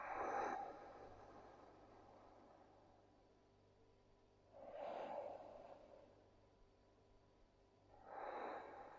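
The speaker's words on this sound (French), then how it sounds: "Grande inspiration et grande expiration." Slow, deep breaths during a yoga session lying on a mat, three soft airy swells spaced a few seconds apart, close and faint.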